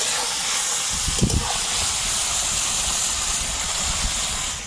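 Koi fish sizzling in hot oil with a continuous loud hiss, a brief burst of spatter early on as pieces go in, then an even steady fry with no talk.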